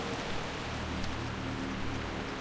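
Steady rain pours across a jungle in World of Warcraft, a dense, even hiss of falling drops with no voices, holding at a constant moderate level throughout.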